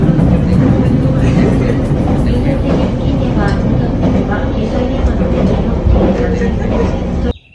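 A train rumbles loudly along the rails toward Yamadera station in Yamagata, Japan, with a constant roar and rhythmic clatter, voices faintly under the noise, until it abruptly cuts off.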